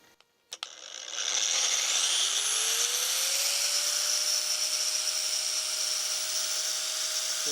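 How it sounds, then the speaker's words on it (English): An angle grinder and a sander powered from a 500 W portable power station, starting with two sharp clicks and then spinning up into a loud sustained high-pitched whine with a rising motor tone that holds steady, no voices. "the combination of angle grinder and sander should trip this over into"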